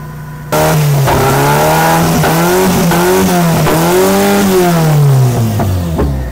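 An owner-type jeepney engine starts up and runs loud and close, its pitch climbing and dipping through several revs before easing off at the end.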